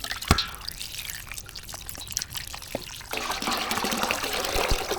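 New potatoes are washed in water by hand, giving soft splashing, dripping and trickling that turn into a busier, continuous sloshing partway through, close and fairly quiet.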